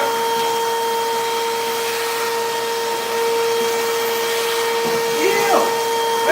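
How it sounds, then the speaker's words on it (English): A vacuum cleaner drones steadily in a bathroom under remodeling, a loud close whine with fixed tonal hum, as people talk briefly over it. "That's the vacuum."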